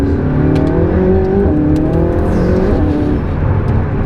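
A loud, close McLaren supercar engine revs and holds a throaty drone, its pitch rising and falling, with a few sharp crackles near the start.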